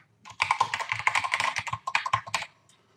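Someone types a password on a computer keyboard, a quick close run of crisp key clicks lasting about two seconds, then quiet.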